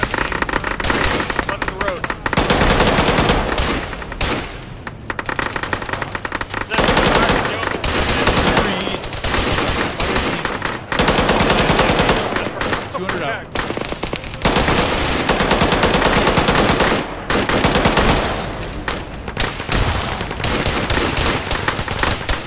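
Dense, loud suppressing gunfire in the Arma 3 military game, sustained automatic bursts and rapid shots rattling almost nonstop with brief gaps, voices talking intermittently underneath.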